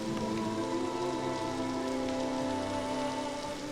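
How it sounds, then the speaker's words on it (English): Steady rain falls heavily during a storm, a dense continuous patter on surfaces with no pauses and no voices. "a great storm began to rise. Rain fell, winds intensified"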